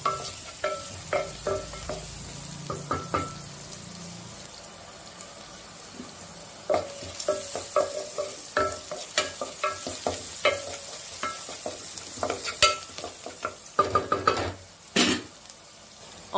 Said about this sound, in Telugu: గోల్డ్ కలర్ వచ్చే వరకు బాగా వేయించుకోవాలి